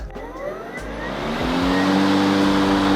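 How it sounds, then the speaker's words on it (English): An Ego electric lawn mower motor whines and climbs in pitch as it strains mulching wet grass, a steady mechanical drone rising over a few seconds, close and fairly loud. "you'll hear the Ego mower rev up as it's not very good on mulching wet grass"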